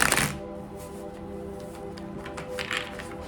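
Tarot cards are shuffled close by with a soft, continuous rustling and riffling that follows a brief louder burst at the start, with no talking.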